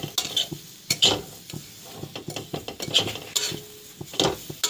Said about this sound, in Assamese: নাৰিকলখিনি ইমান সময়হে ভাজিব যাতে চেনিখিনি নাৰিকলৰ লগত ভালদৰে মিশ্ৰণ হয়